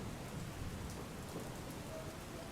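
Steady early-morning rain pours down on a foggy hill station, Saputara in Dang, in a continuous broadband hiss, with a low rumble underneath and no voices.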